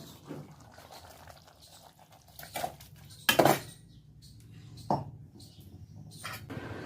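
A Bengali fish curry (macher jhol) is stirred in a pan, with a few sharp metal utensil clinks and scrapes against the cookware between soft, quiet moments, close by, with no speech.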